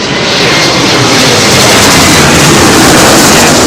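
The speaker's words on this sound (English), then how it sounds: "it's an Embraer E195, I'm thinking, with the old CF34 engines" Embraer E195 jet with CF34 engines landing at London Heathrow, a loud, steady, close engine roar that fills the whole clip without a break.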